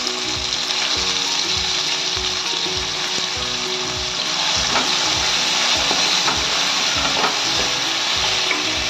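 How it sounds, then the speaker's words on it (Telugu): Onions frying in a pan for a country chicken curry, a steady dense sizzle with faint rhythmic stirring scrapes running throughout, close and fairly loud with no talking. "మంచిగా బ్రౌన్ కలర్ అయ్యేదాకా ఉల్లిగడ్డ వేయించుకోవాలి"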